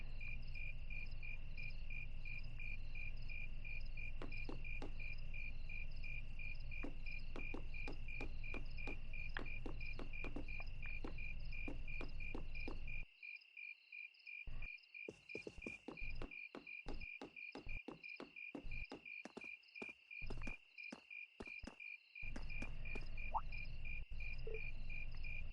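Crickets chirp in the video game Trails of Cold Steel, a steady high pulsing trill that runs unbroken under a quiet scene, with soft footstep-like taps dropping in and out.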